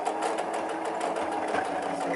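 Sewing machine stitching a wig topper, a continuous rapid close-up mechanical whirring and clatter of the needle running steadily throughout.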